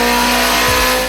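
A Nissan Silvia's engine roars loud and close at high revs on a dyno, with a steady buzzing drone, the pitch shifting briefly in a short burst.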